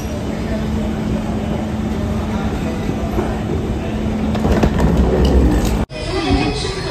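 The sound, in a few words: train at a railway station platform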